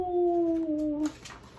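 A human voice imitates a coyote howling, one sustained, slightly falling wail held for about a second before fading into quiet room noise.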